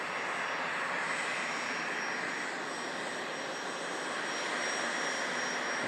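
An Icelandair Boeing 767 jet arriving at Manchester Airport gives off a steady, broad whooshing roar with a faint high whine, constant and moderately loud throughout.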